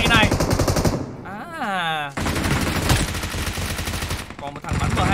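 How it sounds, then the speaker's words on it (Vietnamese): Sustained M249 machine gun bursts in PUBG Mobile, loud rapid automatic fire in long strings with a short gap and a sweeping tone midway, close and dominant. "Còn một thằng bắn M249 ở trên đây nữa"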